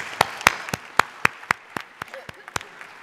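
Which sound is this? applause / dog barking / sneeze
applause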